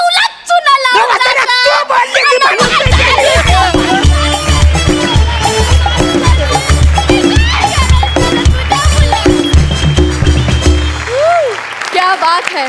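Loud studio audience applause and cheering at a Marathi comedy show, dense clapping filling the clip with a crowd roar and voices mixed in, close and sustained.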